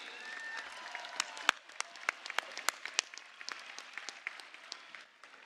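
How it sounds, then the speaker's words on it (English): Audience applause fills a Cal Poly spring commencement ceremony: dense, steady clapping from a large crowd with sharp individual claps standing out, holding for several seconds before tapering slightly. "How about one more round of applause for our friend Cal Poly?"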